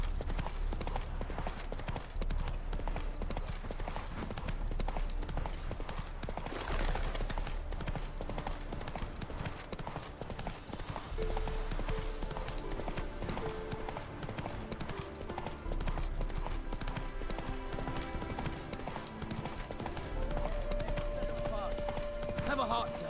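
Roach the horse gallops in The Witcher 3 with rhythmic clip-clopping hooves throughout, under game music and occasional voices talking.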